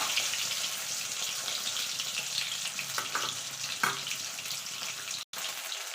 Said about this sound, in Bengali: হালকা করে ভেজে নেবো ডিম কিন্তু বেশি ভাজবে না